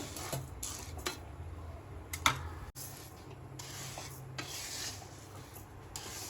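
Rice, a kilo of it, dry-roasting in a pan for bhajani flour, heard as a steady close rubbing and scraping of grains stirred against the pan, with a few sharper knocks and no voices.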